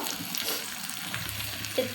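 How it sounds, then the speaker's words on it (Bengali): Potatoes and shrimp fry together in a pan, giving a soft, steady sizzle heard close by for a brief moment, quiet and with no voices. "এখন আমি আলুগুলো দিয়ে আবারও একটু ভালোভাবে কষিয়ে নেব ভাজা ভাজা করে নেব"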